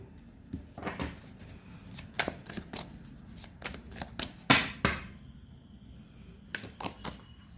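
A deck of tarot cards is shuffled close by, with a series of quick crisp riffles and soft slaps in uneven bursts and short pauses between them, and no talking.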